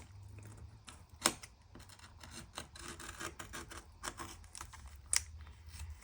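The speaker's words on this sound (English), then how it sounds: "now we're going to take our knife and I'm just going to kind of cut around this little piece here" A knife cutting around a small piece of covering on a wooden clipboard makes quiet, close scraping and rasping strokes, with a couple of sharp clicks, alone and without talk.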